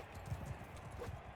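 Horses gallop in the medieval combat game Mount & Blade II: Bannerlord, their rapid hoofbeats thudding faintly in a quick, continuous rhythm.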